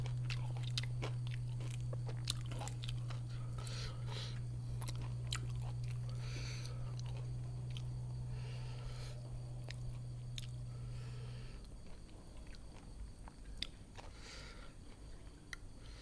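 Crispy fried pork leg chewed close up in a quiet room, soft repeated crunching and squishing bites, faint against a steady low hum that cuts out near the end.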